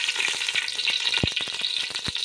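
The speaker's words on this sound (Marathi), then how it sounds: "सगळ्या प्रथम मी पातेलं गरम करून घेतलेलं आहे आता ह्याच्यात तेल वाचणार आहे" Oil poured into a heated pot for a chivda tempering crackles and sizzles close up, a dense steady hiss broken by small sharp pops and clicks throughout, no voices.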